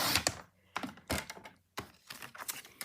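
A paper trimmer slices through cardstock along the 8-inch side in a few quick, close bursts of sharp clicking and scraping, with short pauses between strokes.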